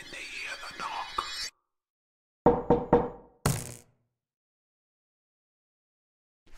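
Three sharp, evenly spaced knocks ring out in a horror video game, loud and close, then a short scraping burst and silence; game voices come before them.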